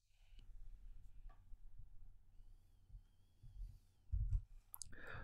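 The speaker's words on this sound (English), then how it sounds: "as you will see in just a moment as I type in the query" Keys tap on a computer keyboard as a query is typed: sparse, soft clicks come at uneven intervals in a quiet room, with a few louder knocks near the end.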